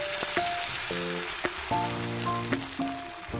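Uttapam batter sizzles and crackles in oil on an iron pan, close and continuous, with a few sharp clinks and taps mixed in; no talking.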